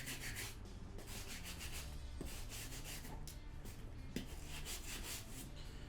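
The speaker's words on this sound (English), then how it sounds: "I'm just going to brush the boot" A brush scrubs dry dirt off a leather cowboy boot in steady, continuous rubbing strokes with a few brief pauses, close and fairly quiet, with no voices.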